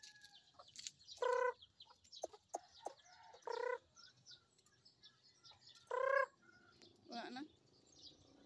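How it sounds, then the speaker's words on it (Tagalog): Chickens clucking in a few short, scattered bursts, with quieter chirps and faint background noise between them. "May manok. Or chicken."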